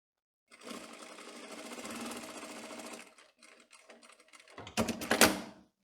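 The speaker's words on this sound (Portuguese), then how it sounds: "nós vamos fazer uma costura fixando" A sewing machine stitches a fixing seam on a tailored skirt waistband, a fast even needle rattle for several seconds, then short stop-start bursts and a final louder run, close and with no talking.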